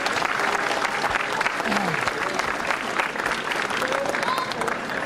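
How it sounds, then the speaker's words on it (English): A crowd at a senior championship final celebration claps steadily for the sponsors, with dense, even applause and some voices mixed into the clapping throughout. "so round of applause for the sponsors."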